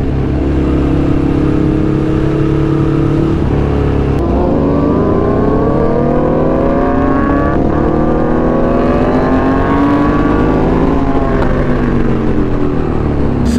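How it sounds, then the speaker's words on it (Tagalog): A loud motorcycle engine runs close by, holding a steady roar with several rising revs and gear changes throughout. "Super loud bike, I'm sorry."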